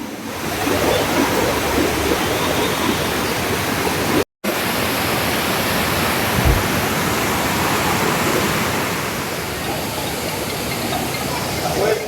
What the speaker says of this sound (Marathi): आणि खूप पाऊस आहे.